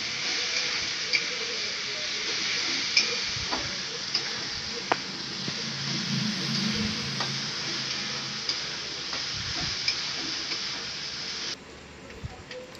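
Ginger-garlic paste frying and being stirred in a pan for a mutton liver curry: steady close sizzle with scattered ticks and scrapes of the spoon against the pan, no talk, easing off near the end.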